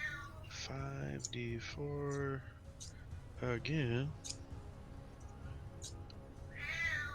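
A pet cat gives several drawn-out, wavering meows close by, some rising and falling in pitch, interleaved with people talking casually around a tabletop game.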